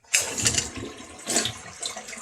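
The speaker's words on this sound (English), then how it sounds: "So we're going to flush until we have all the water out." A toilet flushes with its water supply shut off so the tank drains during a bidet installation: a loud, close rush of water that surges, eases, then surges again, with no talking.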